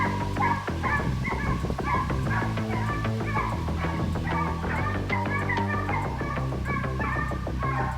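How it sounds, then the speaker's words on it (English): Pack of hunting dogs barking and yelping steadily during a wild boar hunt in thick bush, overlapping calls filling the whole stretch at moderate loudness. "So I can feel the dogs barking."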